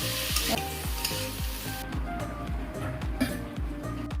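Potatoes fry in a pan with a steady, close sizzle broken by repeated scraping strokes of a spatula stirring them, loud and continuous throughout with no talking.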